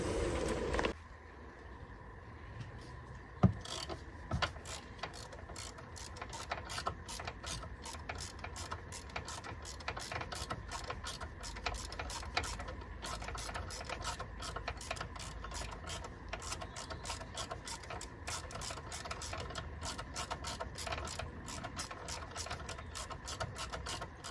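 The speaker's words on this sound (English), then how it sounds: "a reasonable size 3/8 ratchet. We'll get this filler plug undone." A 3/8 ratchet with an 8mm socket on a long extension undoes the gearbox filler plug on a Land Rover Discovery Sport L550, giving steady rapid clicking throughout, close and fairly loud, with one sharper knock early on.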